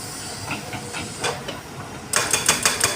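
Large Caterpillar heavy machine at work, hissing and clanking steadily with bursts of metallic rattling, then a louder stretch of rhythmic broadband hiss and clatter near the end, with no voices.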